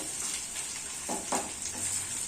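Chicken frying in a pan at home, a soft steady sizzle close by with a few short stirring scrapes and clinks, no voices.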